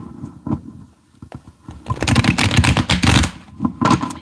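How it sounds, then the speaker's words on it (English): Playing cards being shuffled up close, a few soft taps and riffles first, then a long loud rapid flurry of fluttering card slaps and a final short burst. "I got to shuffle these."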